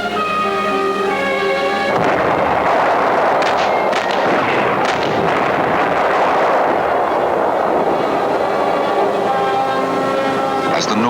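Continuous loud booming and crackling like distant cannon fire in battle, a dense roar of blasts lasting throughout, with no clear talking.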